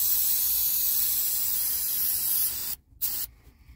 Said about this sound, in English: I'm gonna spray these rags with starter fluid and then stick them in here.